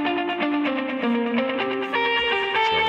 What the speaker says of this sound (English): So you get like a kind of echo of the guitar going left and right, and it sounds like this.